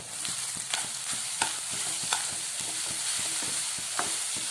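Spoon scraping and stirring through sugar mixed into a hot pan while it melts, rhythmic sharp strokes every half second or so over a soft steady sizzle, close and fairly quiet.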